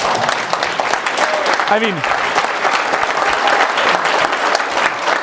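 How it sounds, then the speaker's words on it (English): Audience clapping at a motivational talk: a loud, dense burst of crowd applause running the whole stretch, with a voice speaking briefly over it and a faint whistle-like tone mid-way. "I love that you clap"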